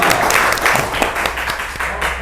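A small group claps briefly in an indoor talk setting, a loud, close, uneven patter of hands with a few distinct sharp claps, fairly short.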